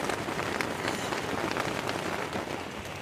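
Rain drums steadily on a tent at night during a rainstorm on the Pacific Crest Trail, a dense, even patter close overhead with no gaps.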